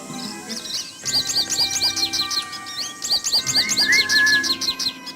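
Birds in the Nancy Drew: Ghost Dogs of Moon Lake game sing a steady stream of bright chirps and tweets with a whistled call mixed in, loud and close, with no talk over them.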